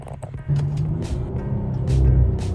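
Car engine running close by, with a loud, steady low rumble that swells in places and a few brief higher noises over it, no talk.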